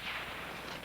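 Rifle fire at an Army basic training range at Fort Leonard Wood, heard as a brief, loud, broadband blast with a short rumbling tail and no talking.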